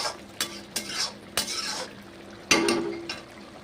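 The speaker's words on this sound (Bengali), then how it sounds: "এই মশলাটা ভালো করে কষিয়ে নেব।" A spoon stirs and scrapes spice paste frying in a pan for an omelette curry, with repeated close clinks and scrapes over a low, steady sizzle.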